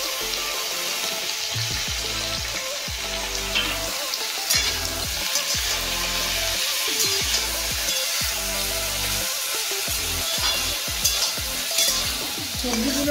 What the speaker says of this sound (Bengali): সবজিগুলো আমার ভাজা হয়ে গেছে।